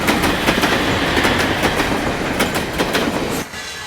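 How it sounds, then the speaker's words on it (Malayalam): A passenger train rolls into a railway platform, loud and close, with steady rumbling and a rhythmic clickety-clack of wheels on rail joints that fades away at the end. "1-ാം നമ്പർ പ്ലാറ്റ്ഫോമിലേക്ക് ട്രെയിൻ വന്നുകൊണ്ടിരിക്കുന്നു."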